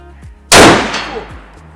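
A single sharp, loud Schmidt-Rubin 96/11 rifle shot fired at a shooting range, close and alone, with a fast-decaying echo afterward.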